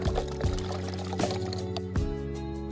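Homemade neem oil being poured, a close, steady liquid flow with a few small splashy accents and no talking.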